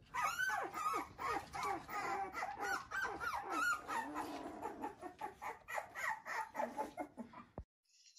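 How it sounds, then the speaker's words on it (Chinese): An abandoned newborn puppy, eyes still closed, left by a rubbish bin, whimpers and squeals in a rapid, continuous string of high, wavering cries, close and fairly loud, before stopping abruptly. "垃圾桶面前不知道谁又丢了一只小狗狗。"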